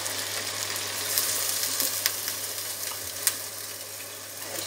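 Kidneys frying in a pan sizzle steadily after a splash of wine goes in, a constant close hiss with a few small pops and no talking.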